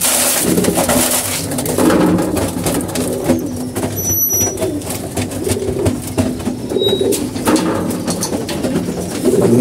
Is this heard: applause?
no